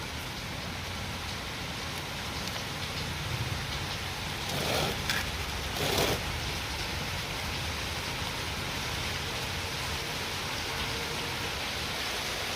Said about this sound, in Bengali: আর এদিকে কিন্তু খুব বৃষ্টি শুরু হয়ে গেছে